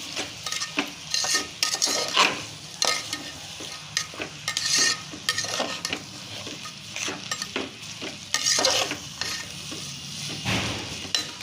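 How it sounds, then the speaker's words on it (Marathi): Rice is stirred in a pan with a spoon, producing repeated scraping and clinking strokes in an irregular rhythm over a continuous light sizzle, close and fairly loud, with no talking. "तांदूळ घालून जरा हलवून घ्यायचं"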